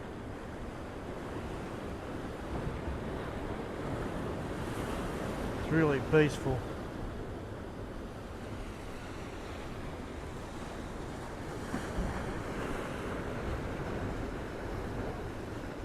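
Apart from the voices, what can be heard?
waves washing over rocks by a pier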